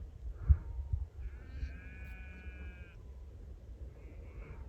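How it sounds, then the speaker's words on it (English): Sheep and goats bleating in a mixed flock in the Mongolian countryside at early morning: one clear, sustained bleat stands out over a low background rumble, with a fainter answering call near the end. "It's actually a mixture of sheep and goats in there."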